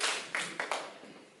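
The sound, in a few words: applause in a classroom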